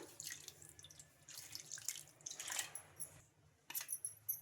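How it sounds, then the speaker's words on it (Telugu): Water pours and splashes into a bowl of semolina in short uneven bursts, with brief pauses and light trickling between them. "ఇంకా ఈ రవ్వ మునిగే వరకు అయితే వాటర్ అయితే వేసుకుందాం"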